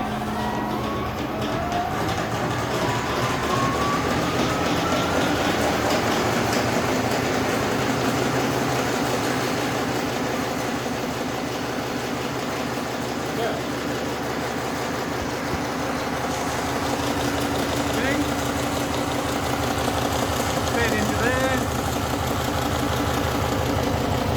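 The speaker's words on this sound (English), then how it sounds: "This one will start rotating this feeder. And then we slowly wind up the speed." A long length wire winder machine with a rotating puller and feeder runs steadily, a dense continuous mechanical drone and whir that holds level throughout without pause.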